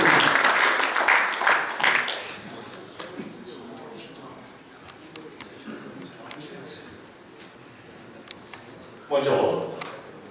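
Applause rises from an audience at a military academy alumni association's chairman inauguration ceremony, loudest at first, then thinning into scattered claps beneath a speaking voice, with a short renewed burst near the end.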